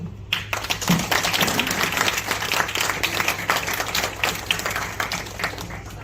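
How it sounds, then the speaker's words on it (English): Secondary school students applaud their teachers at a World Teachers' Day event, a sustained round of many hands clapping that swells quickly after a brief quiet start and carries on steadily, tapering slightly at the end. "Students, join me in a big applause to our teachers"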